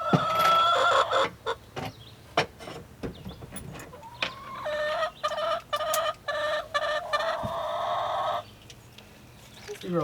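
Backyard hens in an old chicken coop cluck and squawk close by, a run of sharp, repeated calls with brief pauses and one longer drawn-out cackle, loud and unaccompanied by speech.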